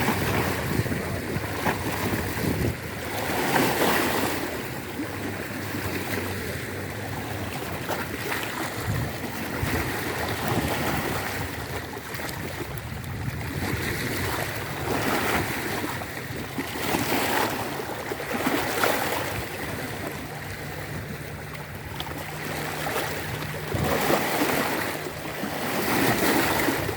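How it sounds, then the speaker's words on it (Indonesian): Big ocean waves surging and crashing on a beach, a continuous roaring wash with recurring swells, mixed with gusting wind buffeting the microphone. "Ombak semakin besar ya. Ombak semakin besar, Mbak Tubruk harus mundur ya."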